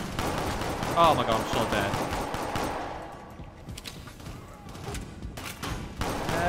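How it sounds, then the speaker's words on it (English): Pistol gunfire in the video game Shadowrun, sharp shots scattered through the clip, loudest early and fading into quieter game noise, with someone talking over it. "I'm going to pick at them from far with a fucking pistol"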